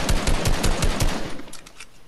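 Rapid automatic gunfire from a Fortnite match, loud and close, a dense burst of shots lasting about a second and a half before thinning out, with no talking.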